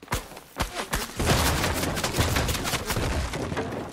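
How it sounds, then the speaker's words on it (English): Rapid bursts of Fortnite gunfire from a blue drum gun in Chapter 4 Season 5 crack loudly, a few separate shots giving way to a dense, sustained fusillade of overlapping rounds. "We got a guy that's shooting."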